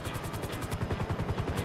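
Helicopter rotor thumping in Grand Theft Auto V, with a fast, even chop of blade beats and a continuous engine whine, alone and moderately loud.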